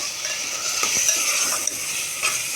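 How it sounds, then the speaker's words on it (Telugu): A spoon stirs and scrapes through potatoes, tomatoes and coconut-ginger-garlic paste frying in a pan for meal maker tomato pulao, with a continuous close sizzle and irregular scraping strokes. "ఇప్పుడు ఇది మొత్తం మిక్స్ చేసుకోవాలి."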